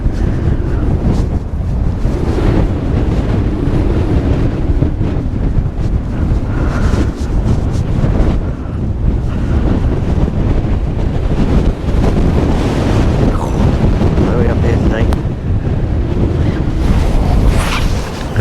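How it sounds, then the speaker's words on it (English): Strong wind roars across the railings of Hownsgill Viaduct near Consett, County Durham, a loud, steady broadband rush with heavy buffeting against the microphone and no talking. "Let's listen to the sound of the wind going through the railings for a bit."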